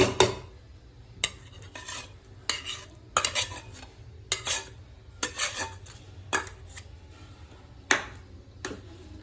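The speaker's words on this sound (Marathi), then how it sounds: "तर ती केळी सुद्धा मस्त हलवून घेऊया" Bananas being stirred into sweet prasad in a pot for a Satyanarayan puja: a spoon scrapes and knocks against the metal pot in repeated sharp strokes, each followed by a soft, quiet bubbling.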